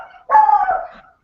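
A small dog, a miniature schnauzer, gives one sharp bark that trails into a short whine, close and loud against near silence.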